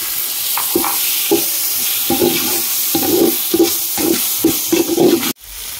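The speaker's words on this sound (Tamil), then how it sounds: "இப்போ இஞ்சி பூண்டு பேஸ்ட் சேர்த்துக்கலாங்க" Ginger garlic paste sizzling in a hot pan for a mushroom biryani, with a steady loud fry hiss broken by rhythmic scraping strokes of a spoon being stirred, cutting off abruptly near the end.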